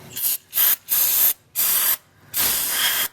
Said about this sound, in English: I'm going to go ahead and spray this actually down in there